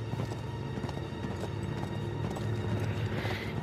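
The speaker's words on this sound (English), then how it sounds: "Now I'm just on the back of his horse." Horse hooves clip-clop in a steady riding rhythm in the video game Uncharted 3, moderately close and continuous, with a faint whinny near the end.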